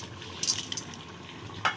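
Whole garam masala and bay leaves fry in oil in a pan for mutton curry, a faint soft sizzle broken by two quick clinks of a utensil against the pan.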